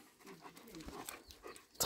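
Schipperke dogs pant and whimper faintly indoors, a soft, uneven run of breathy sounds ending in a sudden louder burst.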